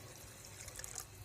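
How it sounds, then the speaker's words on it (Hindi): Water pours into a pot of white chickpea curry (chana salan) while it cooks, a soft steady splashing and trickling heard close up and alone, with no voices. "अब हम इसमें डालेंगे तकरीबन दो कप पानी ताकि हमारे चने अच्छी तरह से गल जाएं"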